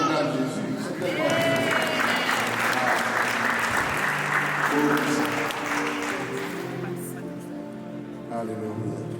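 Congregation at a church wedding applauding steadily and loudly throughout, a dense wash of clapping with voices mixed in.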